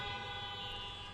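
Horns sounded by an audience at a motivational talk in Brazil, a sustained dense blare of many overlapping toots holding steady and loud throughout, with no gaps.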